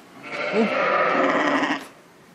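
Sheep and a newborn lamb bleat on a farm where about 450 lambs have been born, one loud sustained bleat lasting nearly two seconds, close to the listener.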